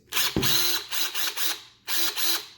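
Several short bursts of a Ryobi cordless drill whirring, starting and stopping with a clicking ratchet sound, close by and fairly loud.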